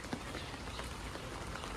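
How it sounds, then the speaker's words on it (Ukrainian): Continuous patter of rain falling on a surface, a dense, even hiss with no voices. "йде дощ"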